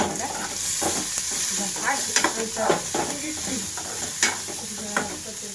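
Onions fry with masala in a pan, sending up a continuous sizzle broken by scraping stir strokes and soft clinks of the spoon, close and moderately loud, with a little background voice.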